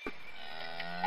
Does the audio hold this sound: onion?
no